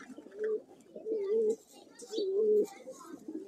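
Pigeons coo in three drawn-out, rolling phrases, close and clear, with short pauses between them.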